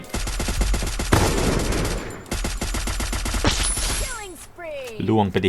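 A scoped gun fires in a shooting video game, rapid steady bursts of shots in quick rhythmic succession, loud and close, with a brief spoken remark and small electronic chirps near the end.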